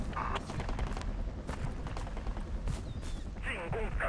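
Gunfire in the video game Project Reality, several sharp cracks and bursts from NATO-caliber rounds scattered over a busy battlefield mix, some close and loud, others distant, with faint radio-like chirps late on.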